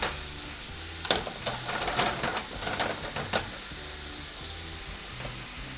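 Vegetables sauté in garlic oil with a pinch of salt over high heat for a Bolognese-style soffritto pasta, a steady close sizzle with scattered stirring clatters and scrapes, no talking.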